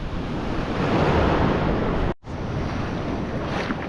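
Sea waves wash and roar continuously under heavy wind buffeting on an open shoreline during a fishing trip, loud and close, with one brief dropout midway.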